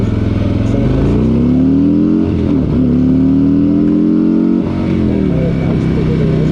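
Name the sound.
stock Harley-Davidson motorcycle accelerating from 0 to 60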